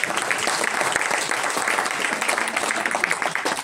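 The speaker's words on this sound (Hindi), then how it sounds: "अपने आप के लिए ताली बजाओ।" An audience at a Hindi-language motivational talk claps for themselves, producing a thick, continuous burst of applause at steady volume throughout the few seconds.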